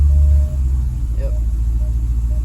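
Idling 2015 Dodge Challenger SRT 392 V8 with its windshield removed, a steady deep rumble running throughout after a louder opening half-second, with faint talk underneath.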